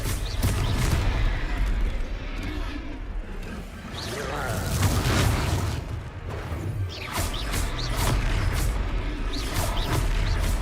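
A Confringo blast spell in a Harry Potter video game explodes amid steady crashing, whooshing combat noise and booming impacts, with voices calling out over the action.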